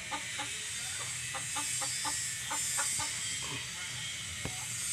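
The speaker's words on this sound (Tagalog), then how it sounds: "Ang alaga kong manok, dalawang babae." Two pet hens cluck softly and repeatedly while pecking at cooked rice, short clucks in loose clusters close by over a faint background hiss, with someone talking in between.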